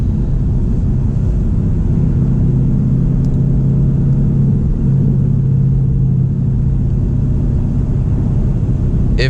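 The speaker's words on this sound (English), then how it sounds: "Taking out the Mustang for a drive" A Ford Mustang GT's engine drones in a loud, continuous rumble while cruising along twisty roads on a sunny day, heard from inside the car with no talking.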